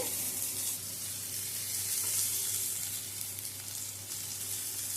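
Chopped green chili and spices fry lightly in oil, a steady moderate sizzle with faint stirring, under a low constant hum.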